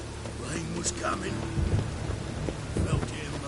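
Rain falls steadily with low thunder rumbling through a Witcher 3 storm, a continuous wash of noise with voices and game sound mixed in.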